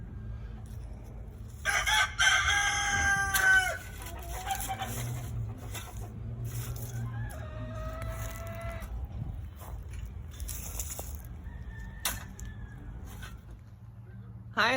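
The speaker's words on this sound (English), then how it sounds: "them chickens are having some sort of to-do over there" Chickens cluck and a rooster crows in a farmyard during an evening pecan harvest, the flock squawking loudly in a burst early on, then settling into scattered clucks with another crow later over steady outdoor background.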